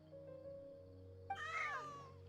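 Cats meowing in the video game Genshin Impact, a low hum of background music at first, then a sudden, loud, drawn-out wavering meow rising and falling over the final second.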